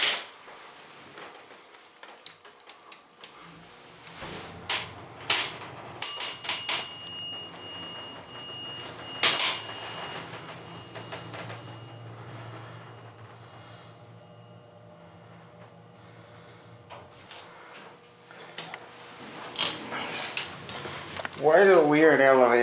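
A 1988 Montgomery Vector hydraulic elevator at a JCPenney store in a mall rises to the second floor, with clunks and chimes, then a long low hum of the ride, and a voice talking over it.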